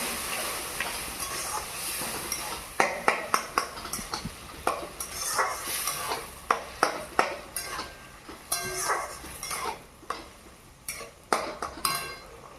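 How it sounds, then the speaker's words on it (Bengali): Boiled peas being stirred in a pan while making ghugni, a Bengali pea curry, giving repeated clinking scrapes of a spoon against metal in an irregular rhythm, close and fairly loud, with no talk. "সেদ্ধ করে রাখা মটর এভাবে নেড়ে চেড়ে নেবো"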